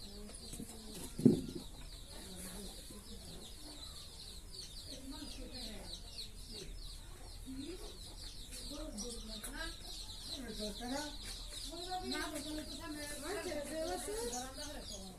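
A chicken clucks softly at home, with faint intermittent clucks and a brief flutter of wings early on, mostly under quiet conversation.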